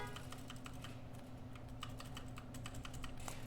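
Computer keyboard keys pressed in quick irregular taps while controlling a multiplayer Asteroids game, faint and close, alone over a steady low hum with no talking.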